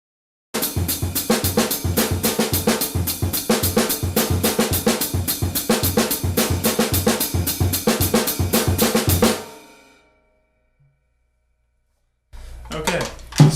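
A drum kit plays measure 13 of a drum solo: dense, fast, steady hits for about nine seconds, close and loud, ending abruptly into silence before a brief burst of playing resumes.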